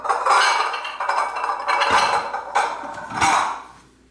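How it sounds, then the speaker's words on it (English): Dishes, bowls and cutlery clink and clatter close by as a dishwasher is unloaded at home, several busy bursts of rattling over about four seconds before fading out. "I'm unloading the dishwasher"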